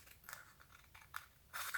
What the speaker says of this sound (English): you can take your scissors and just in one step